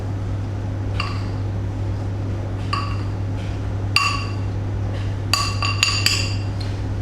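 A utensil stirs cupcake batter in a bowl, giving a few sharp clinks and taps against the side, some in quick clusters, over a steady hum of a kitchen fan.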